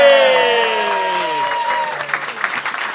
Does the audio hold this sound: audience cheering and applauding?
yes